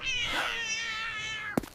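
A kitten gives a single drawn-out, wavering meow lasting over a second, close and fairly soft, followed by a brief sharp knock.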